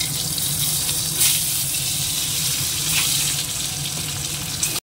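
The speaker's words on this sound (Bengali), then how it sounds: "এবার ডিমটা ভাজতে দিয়ে দেবো, তেলটাও গরম হয়ে গেছে" An egg frying in hot oil gives a steady, loud sizzle and crackle that runs unbroken from start to finish, with no voices over it.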